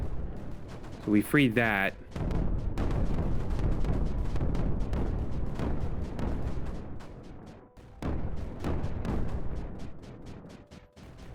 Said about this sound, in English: Oh, things are exploding.